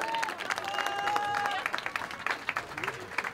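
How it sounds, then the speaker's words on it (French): Audience applause at a school prize ceremony for lycée students at a trompe-l'œil world cup, steady clapping filling the room for about three seconds with a sustained tone and some voices over it. "Alors on peut les applaudir encore bien fort."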